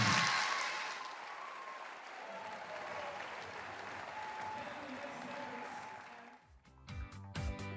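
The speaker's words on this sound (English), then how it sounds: "they're going to give you one final cheer" A crowd at a British Open squash match applauds and cheers in a big arena, loud at first and then easing to a steady roar under an announcer's voice, before a burst of music comes in near the end.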